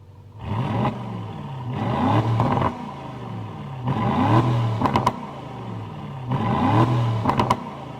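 A 2024 Aston Martin DB12 with an AMG-based engine, its sound retuned by Aston Martin, revs up repeatedly in three rising, throaty pulls with short pauses between, loud and close, with light mechanical clatter as each rev drops off.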